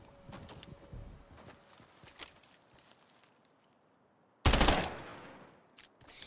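Burst-fire SMG in a video game, a short faint volley early on, then one loud sharp rapid burst partway through with a quick tail and a brief final shot.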